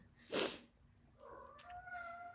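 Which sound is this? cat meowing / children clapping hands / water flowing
cat meowing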